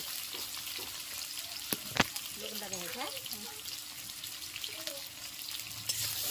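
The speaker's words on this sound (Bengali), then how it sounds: "এখন একটু নেড়ে চেড়ে একটু সামান্য লবণ দিয়ে দেব" Potatoes fry in a pan while being stirred, a soft continuous sizzle under the occasional scrape and knock of a utensil, with a voice briefly heard partway through.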